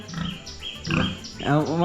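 Pigs grunt and squeal in a pen at an Idukki adventure park in Kerala, close and short, with a few rough calls overlapping.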